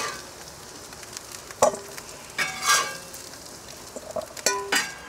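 Gyros meat cooking on a plancha griddle, a soft steady sizzle broken by several sharp scraping and clattering knocks of utensils, close by with no talk.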